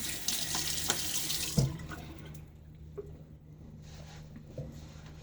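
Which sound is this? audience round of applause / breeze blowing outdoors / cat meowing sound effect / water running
water running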